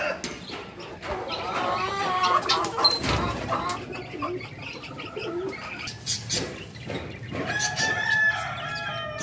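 Backyard roosters and hens cluck and chatter continuously, with a crowing call and scattered bird chirps rising near and loud over the busy flock.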